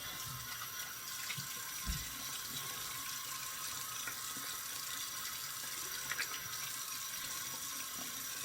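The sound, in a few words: water rinsing off a surface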